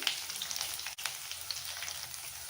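Black pepper, coriander seeds and cumin roast in a pan for sambar, giving a faint, steady, fine crackling sizzle with one soft knock partway through.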